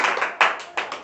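Students clapping in a classroom, a short burst of several loud, uneven claps close by with no talk.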